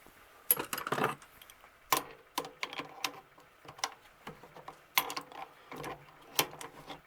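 An Atlas/Sears steady rest being tightened on a Compact 8 metal lathe, a series of close metallic clicks, clacks and wrench ratcheting taps in irregular bursts, sharp and fairly quiet.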